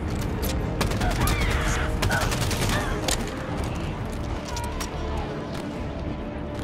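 Rapid gunfire from a weapon in Halo 5: Guardians, sustained bursts of shots over a dense battle din of explosions and effects, loud and continuous throughout.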